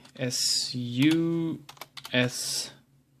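A few quick keystrokes click on a computer keyboard between stretches of someone speaking, the taps brief and close under and after the talk.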